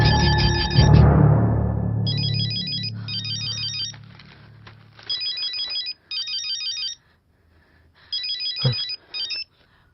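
A telephone rings with repeated electronic trilling bursts in an indoor thriller scene, starting over a loud low rumble that fades, then sounding alone in short regular pulses with brief gaps and a thud near the end.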